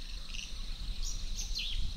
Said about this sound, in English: bird life in the background